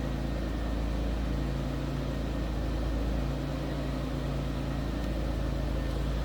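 A 1995 Chevrolet Monte Carlo Pace Car's 3.4 liter engine idles steadily with a constant low hum and rumble, unchanging and close by.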